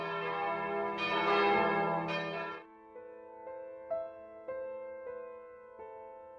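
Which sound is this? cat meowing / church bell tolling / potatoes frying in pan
church bell tolling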